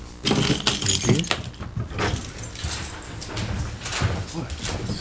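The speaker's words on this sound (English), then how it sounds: "Keys?" Keys jangle close by at a town board meeting, with clinks and rattles in the opening seconds, then a lighter metallic shuffle under people talking in the room.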